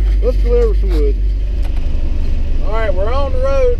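Old truck driving on the road hauling a load of firewood, a loud low steady engine drone close by, with someone talking over it at the start and end.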